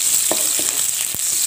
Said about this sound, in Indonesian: kita tumis dulu atau kita goreng terlebih dahulu ya